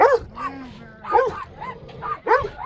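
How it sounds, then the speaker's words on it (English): Several small puppies bark and yip in short high-pitched bursts, close by, with a brief whimper between the barks. "You got puppies there. Listen to those babies."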